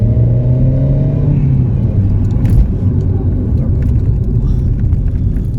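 Seat Ibiza 1.2 TSI FR hatchback accelerating from inside the cabin, a loud engine rising in pitch, then settling into a steady low drone as it picks up speed.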